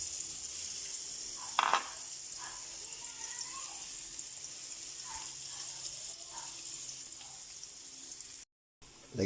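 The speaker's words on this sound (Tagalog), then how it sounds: "Magigisa na po tayo. Ito po, gisa na natin yung luya." Ginger sizzles steadily as it sautés in a pan, a soft, continuous frying hiss with a few brief clinks of stirring, close and moderately quiet.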